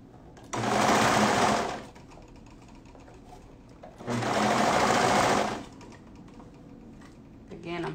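A sewing machine stitches a neckband onto a crew-neck garment in two separate bursts, each lasting a second or so, with pauses in between. It is close and clear, with a voice speaking quietly in the gaps.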